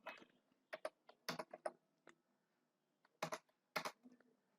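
Typing on a computer keyboard: short irregular bursts of close, crisp key clicks with brief pauses between clusters, heard alone in a quiet room.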